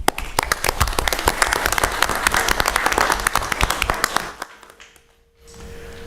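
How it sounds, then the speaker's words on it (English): Audience applause at a town council meeting, a burst of dense clapping from a room of people that fades out after about four seconds, followed by near silence and a faint hum. "Let's give her a round of applause."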